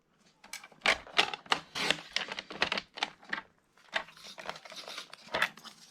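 Rapid, crisp snips of scissors cutting through paper folds, close and fairly loud in a quick irregular series with no talking.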